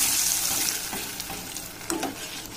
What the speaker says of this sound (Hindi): देखो दोस्तों हमारा ड्राई फ्रूट तड़क गए हैं, और हम इसमें डाल देंगे और इसे अच्छे से मिला लेंगे।